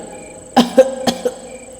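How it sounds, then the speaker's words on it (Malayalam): A woman coughs several times in quick, sharp bursts, close and fairly loud, with brief throaty pauses between them. "കഴിച്ചുകൊണ്ടിരുന്ന ക്യാരറ്റിൻ്റെ നീര് നെറുകയിൽ കയറി അവൾ അവൾ ചുമക്കാൻ തുടങ്ങി"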